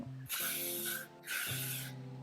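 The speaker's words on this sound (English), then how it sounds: "A little more old lady hairspray." Two close, loud bursts of aerosol hairspray hiss onto hair, each lasting under a second with a short pause between them, over a low background hum.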